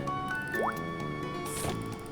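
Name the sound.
watering crops in Harvest Moon: Island of Happiness, video game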